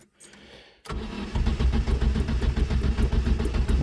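A Tavria pickup's cold engine being started: a brief quiet pause, then the starter kicks in and the motor catches into a loud, rough, pulsing idle, close to the car.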